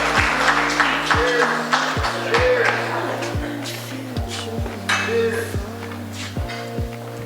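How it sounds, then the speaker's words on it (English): Guests at a wedding reception applauding the bride and groom: scattered clapping over background music with a steady beat, continuing for several seconds. "let's give them a round of applause"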